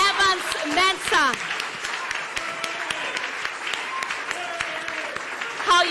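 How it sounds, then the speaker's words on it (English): An audience applauds a guest of honor with dense, steady clapping throughout, while a voice and music-like tones sound over the applause at the start. "a round of applause for the head of the political desk at Multimedia, Evans Mensah"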